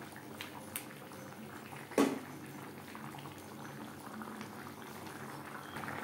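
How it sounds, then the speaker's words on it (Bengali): Prawns simmering in a spicy gravy with jackfruit, Bengali style: a steady low bubbling simmer runs throughout at moderate level, with one brief louder pop or splash near two seconds. "গ্রেভির সাথে মাছ আরও 4-5 মিনিট রান্না করব"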